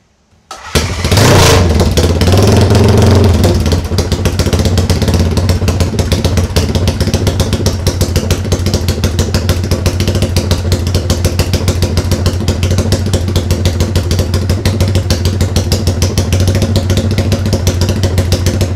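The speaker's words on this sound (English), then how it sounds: "fire the bike up, and see what this thing sounds like" A Wood Rotax motorcycle engine fitted with a programmable ignition cranks and fires, revs briefly, then settles into a loud, steady, thumping idle that carries on for many seconds with no voices.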